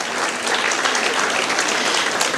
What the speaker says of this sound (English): give Darren a round of applause